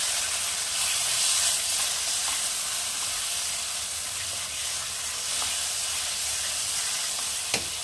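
Spice masala for Bengali shahi aloo dum sizzling in a pan, a continuous close hiss and crackle that stays even throughout, with a sharp tap near the end and no talk.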